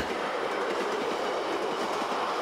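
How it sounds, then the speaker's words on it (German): A Rhaetian Railway train in Graubünden rumbles by up close, a steady loud roar of wheels on rails with a faint rhythmic clatter throughout. "Nicht nur für Hockeyfans hat Graubünden eine eigene Eisenbahn. Die Rätische Bahn."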